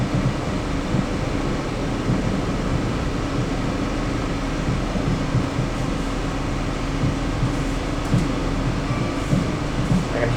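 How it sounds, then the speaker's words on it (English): Steady train rumble with a continuous hissing blast of rail sanders running throughout as the train fights for grip on the rail near Botanic station, loud and close, no voices. "I can hear the sanders going off, trying to get a grip on the rail."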